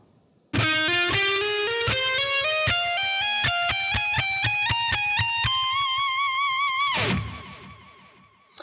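Distorted electric guitar plays a slow ascending run from a guitar solo, picked note by note in an even rhythm, ending on a long sustained note with vibrato before cutting off; no talking.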